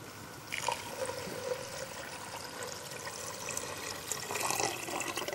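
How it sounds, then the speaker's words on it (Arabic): Water pours and splashes steadily into a pot of rice with fish and shrimp, a continuous running trickle heard up close with no talking. "حضيف المي"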